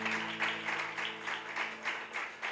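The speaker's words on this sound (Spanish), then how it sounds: "están aplaudiendo, sepa Dios," Rhythmic clapping from a church congregation, steady pulses of applause repeating at an even beat over a low sustained hum.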